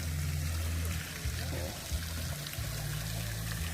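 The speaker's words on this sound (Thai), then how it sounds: "อยู่น้ำตก น้ำพุต่าง ๆ" Water fountains and a waterfall pour continuously at Naya Cafe in Phayao, Thailand, a steady close rush of flowing, splashing water with a few faint breaks in the low churn.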